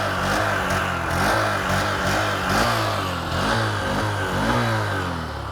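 A Honda SP 125 motorcycle engine revs under the throttle, a loud, steady mid-pitched drone that swells and eases in repeated pulses, close by with no talking.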